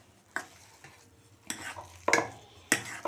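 A spoon mixes vada pav potato filling in a pan, giving four distinct scraping, clinking strokes at uneven intervals against a quiet background.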